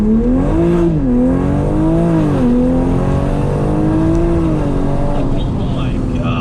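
A big-turbo 2020 Toyota Supra pulls hard from inside the cabin, its engine note rising steadily and loudly through the gears with a brief dip at a shift, while occupants talk over it.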